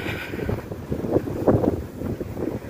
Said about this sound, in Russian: ветер дует, наверное, задувает, вам ничего не слышно